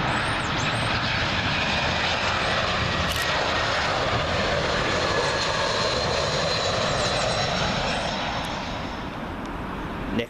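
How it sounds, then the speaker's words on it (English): A Eurowings Airbus A319 arriving at Heathrow from Cologne roars loudly and steadily overhead, a broad continuous jet rumble that holds for the whole stretch before easing slightly at the end. "Next arrival in will be a Eurowings A319. This one coming in from Cologne."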